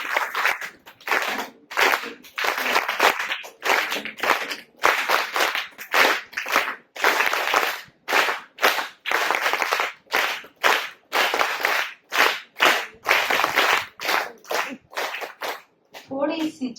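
A group claps hands in a long run of sharp, rapid claps that stop and start in short bursts, loud and close.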